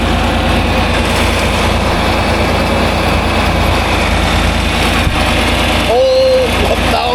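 A farm engine idles at about 1,000 RPM, giving a steady, loud, even drone through the whole clip. A brief tonal sound rises near the end.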